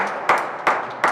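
A crowd at a girls' under-19 world championship squash final claps in sharp bursts that swell three times, loud and close, with no talk over it.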